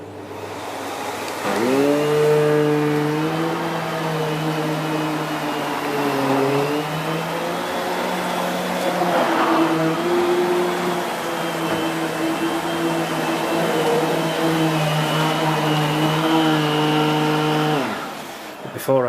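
A 2008 Miele S5980 Revolution (S5 Capricorn) canister vacuum cleaner hums steadily and loudly at close range, its motor pitch dipping and shifting slightly as it is moved, then winding down at the end.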